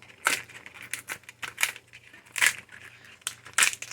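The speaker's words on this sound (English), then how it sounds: "I was using my kitchen scissors." Crisp snipping and crinkly tearing of collard greens cut with kitchen scissors in short bursts, about five or six cuts spaced irregularly, close up with no talking.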